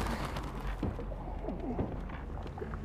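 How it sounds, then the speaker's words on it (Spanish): A bird in the video game Little Nightmares gives several low, throaty coos and croaks over a dense, rumbling game background, with no one speaking. "Ni subas, Marcelo, porque está el pinche pájaro, güey"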